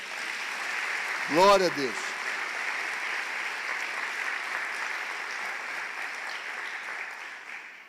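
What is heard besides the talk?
congregation applauding in church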